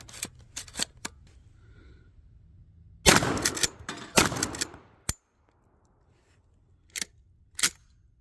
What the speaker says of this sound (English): I'm also just going to try to manhandle this thing, pump it hard and fast, and that might help it with feeding as well